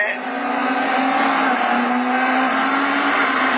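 Division 4 rallycross race cars at Lessay at the start, a loud continuous engine roar with a steady droning tone throughout.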